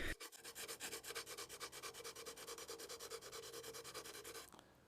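A steel chisel's flat back is rubbed on a sharpening stone in fast, even back-and-forth strokes, a steady close rasping rhythm that runs nearly five seconds before stopping abruptly.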